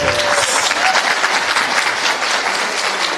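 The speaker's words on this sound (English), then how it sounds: "Another round of applause for Penny Pretty, please." A crowd at a live event announcing the Team Surrey Schools gives a continuous round of applause, a loud, even roar of many hands that holds steady throughout.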